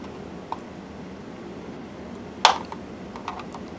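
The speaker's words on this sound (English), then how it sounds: "That was the sound of one of the snaps unlocking" A plastic snap on a corded or cordless telephone casing pops free as a spudger pries the seam open: one sharp, close click stands out in a quiet room, with a few fainter ticks around it.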